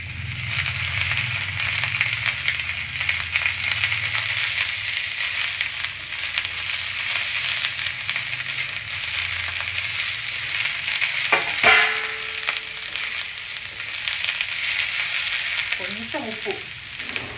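Onion, frozen sweet corn and peas fry in a pan with a continuous loud sizzle. Near the end a few clanks and scrapes of a spoon sound against the pan.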